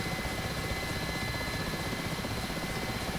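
Mi-8 helicopter in the DCS World flight simulator, a steady dense rotor and turbine roar with a constant whine, continuous and even throughout with no talking.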